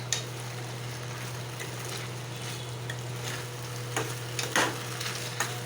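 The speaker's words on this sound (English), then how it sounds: "going to add the fried soya. And give it a nice stir." Fried soya chunks sizzle in a hot pan with a steady frying hiss and a low hum beneath, while a spoon scrapes and stirs in a few brief bursts toward the end.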